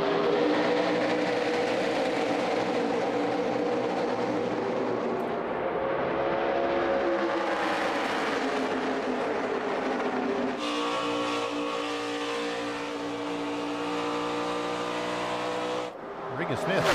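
NASCAR Xfinity Series race cars roaring at full throttle during a 300-mile night race, a continuous loud engine drone with shifting pitch and a sharp change partway through, with commentary voices running underneath.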